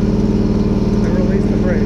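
Small engine of a lawn aerator, started with a key and choke, running at a steady, even idle close by with a rhythmic low putter, loud and alone.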